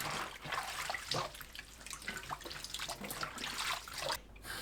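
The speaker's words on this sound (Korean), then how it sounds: "곰피를 씻어줍니다. 물에 가볍게 한두 번 헹궈내세요." Gompi seaweed is rinsed lightly in water, giving soft splashing and sloshing with small drips and trickles in uneven bursts, close and quiet, with no talk.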